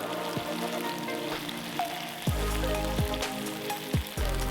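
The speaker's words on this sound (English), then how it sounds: "Cook and stir occasionally for about 2 minutes to deglaze." Sizzling in a pan while white wine deglazes it for venison stroganoff, with a steady frying hiss and several sharp bursts of intensified sizzle as liquid and stirring hit the hot surface, close and alone without speech.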